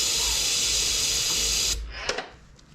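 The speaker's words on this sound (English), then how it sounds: "Okay, I got that sprayed." Spray can hissing onto an LS-swapped Mustang engine before a start attempt, a loud continuous close hiss that cuts off abruptly, followed by a few faint clicks and handling noises.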